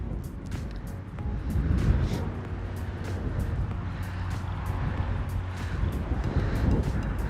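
A strong headwind of about 40 km/h blows across an open disc golf field, buffeting the microphone with constant low rumbling roar and gusty surges, plus faint rhythmic ticking clicks.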